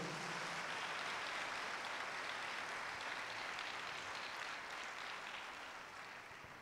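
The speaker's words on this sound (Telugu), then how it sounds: "గట్టిగా చప్పట్లు కొడదామా?" An audience at a healing prayer service at Divine Word Center in Muthangi, Hyderabad, claps in a dense, steady wash of applause that fades gently toward the end, heard from some distance.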